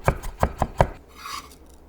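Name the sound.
mincing whole garlic cloves with a knife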